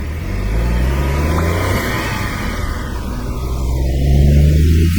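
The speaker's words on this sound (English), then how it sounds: "This S07A engine is turbocharged from low RPM and provides sharp torque response as soon as you step on the throttle" A Honda S660 kei car's turbocharged S07A engine accelerates hard, a steady close droning rise in revs with a whooshing turbo whir, swelling louder toward the end, no voices.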